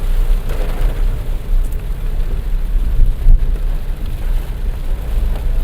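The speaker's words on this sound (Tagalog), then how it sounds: "At medyo tumila-tila dito ang ulan." Steady rain keeps falling as it eases off, a continuous low wash of patter with no talk.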